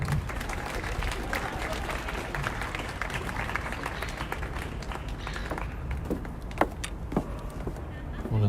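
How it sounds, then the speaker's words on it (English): Outdoor audience clapping at a dignitary flag raising ceremony at the Australian National Maritime Museum, a fairly quiet scattered round of applause over background noise that thins out toward the end. "Can we give Annie a clap?"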